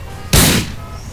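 One sharp, loud shotgun blast in a GTA video game bursts out and decays quickly, standing alone over a low steady background.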